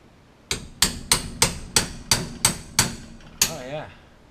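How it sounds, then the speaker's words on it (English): A small cold chisel struck with a hammer to drive out a destroyed ATV wheel bearing, nine sharp metallic blows in a steady rhythm with ringing decay, close and loud, ending in a brief wavering ring. "This might be the smallest cold chisel I have."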